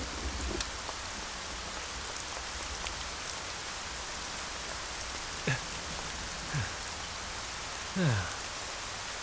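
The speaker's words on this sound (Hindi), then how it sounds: "बारिश को भी अभी आना था" Steady rain pours down throughout, a dense even hiss, with a few faint knocks and thuds rising above it.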